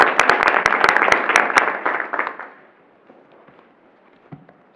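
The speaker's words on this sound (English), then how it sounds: "So I'd like to give him one more round of applause." Applause from the audience at a town board meeting, dense crowd clapping with sharp claps that fades out after about two and a half seconds, leaving a quiet room with a few faint sounds.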